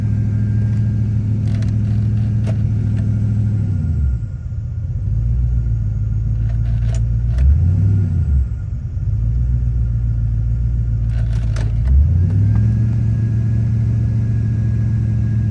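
An LS V8 truck engine idles with a deep, steady rumble that surges and dips repeatedly as the revs rise and fall, loud and close, with no talking.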